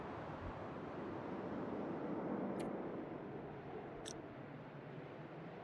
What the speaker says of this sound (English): That's the sound of the blizzard dying.